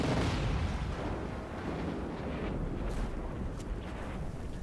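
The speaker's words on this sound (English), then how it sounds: "So all you need to do is blow up the landfill" A nuke explosion blowing up a landfill in Just Cause 3, a sustained deep rumbling roar with crackling bursts that fades slowly and is heard alone, without speech.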